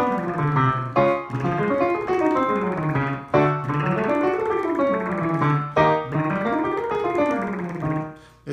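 Fast lip roll vocal exercise: a buzzing lip trill sliding up and down a scale in three repeated sweeps, close and steady with no speech.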